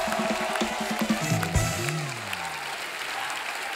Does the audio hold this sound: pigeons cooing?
no